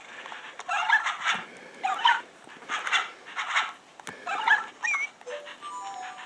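Puppies in the Nintendogs game on a Nintendo DS whimper, yip and bark in a string of short, bright, electronic-sounding bursts, close and fairly loud, with no talking over them.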